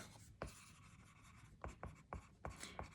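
A pen or marker writes during an accounting lecture on taxes on income, producing several close, soft tapping strokes and scratches, some in quick pairs, against a faint hiss.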